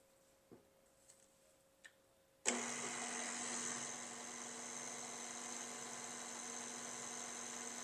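Electric mixer switches on after a few faint clicks and taps, then runs with a steady high whir through royal icing ingredients of powdered sugar, corn syrup, extracts, salt and cream of tartar, close and continuous with no talking.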